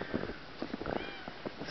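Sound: cat meowing

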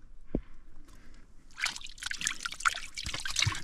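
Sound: water trickling at a spring in the Caatinga

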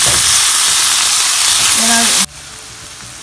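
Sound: onions and tomato frying in a pan for egg biryani

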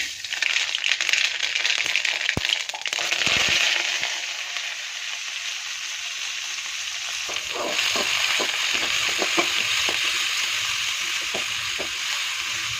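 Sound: onion, garlic and ginger sautéing in hot oil

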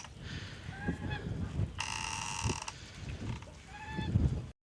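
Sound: goose honking

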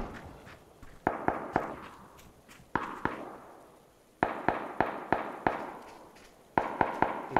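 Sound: gunfire in the PUBG video game

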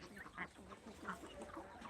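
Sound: desi country chickens and ducks on farm

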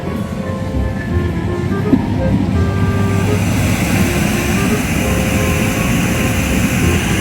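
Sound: air blower lifting balls in a playground

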